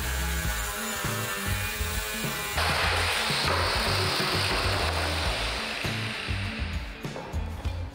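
Plastic riser from an eloy Oxyfix accessory kit being cut along a marked line, giving a steady, close rasping cutting noise that grows louder and rougher after a few seconds and runs on without pause. No one speaks.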